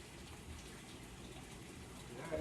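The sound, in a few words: water flushing through an aquarium swirl filter tap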